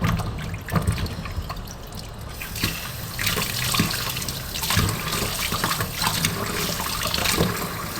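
Water runs steadily from a kitchen tap as food is rinsed for home cooking, a close, continuous splashing stream with small shifts in intensity and no talking.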